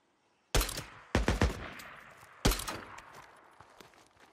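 Gunfire in Days Gone: after a quiet start, a loud shot rings out, then a rapid trio of bursts, a pause and another heavy shot, each decaying into a long echoing tail.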